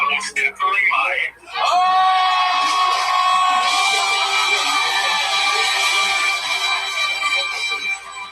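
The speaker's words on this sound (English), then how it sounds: "We can't hear you. The crowd's going too crazy." A large crowd cheers and screams loudly at a live event, a dense sustained roar with shrill whoops that swells after a brief lull and keeps going to the end.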